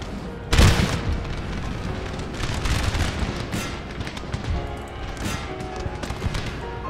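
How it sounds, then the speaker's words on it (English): Artillery fire on a Napoleon: Total War battlefield: one sharp, heavy boom opens, followed by a rolling wash of distant cannon and musket rumble that stays dense and continuous. "And here comes the artillery."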